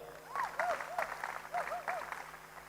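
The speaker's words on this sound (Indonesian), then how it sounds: "Tepuk tangan buat beliau." Audience applause for Cak Nun at a Sinau Bareng Maiyah gathering in Kebumen: steady crowd clapping with a wavering, voice-like tone rising and falling repeatedly over it.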